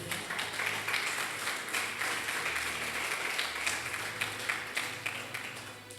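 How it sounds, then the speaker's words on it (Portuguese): Congregation at a Sunday church service applauding, a steady wash of clapping that continues throughout, moderately distant and even. "E você que pode aplaudir a Jesus, por favor"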